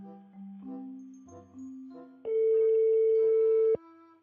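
A phone call rings out while waiting for an answer, with a few soft tones followed by a loud steady tone lasting over a second before it cuts off.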